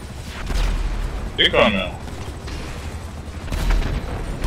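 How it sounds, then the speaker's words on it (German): In a tank video game, muffled explosions and mechanical booms thud in the background while players talk over them. "die Explosionen sind zu laut"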